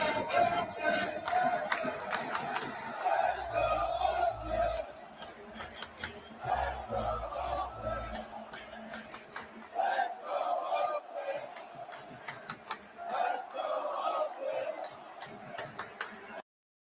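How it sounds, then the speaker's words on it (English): Oakland A's fans in a baseball stadium chanting "Let's go Oakland" with rhythmic claps and thumping beats, a loud, distant crowd cheer repeating in waves, with scattered shouts. "And I ask you for one more time to start the greatest cheer in baseball."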